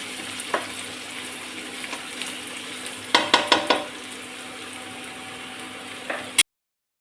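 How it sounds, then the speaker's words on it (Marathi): Garlic frying in a pan gives a steady low sizzle, with a quick run of sharp spatula scrapes in the middle before the sound cuts off abruptly. "आपण याला थोडंसं फ्राय करून घेऊया"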